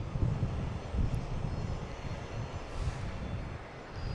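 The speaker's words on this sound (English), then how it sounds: "We got a JetBlue heading to Richmond, flight 1081 and A320." A JetBlue Airbus A320 takes off on runway 22 right at Boston Logan, heard as a distant, low rumbling engine roar that pulses gently and stays fairly faint and steady.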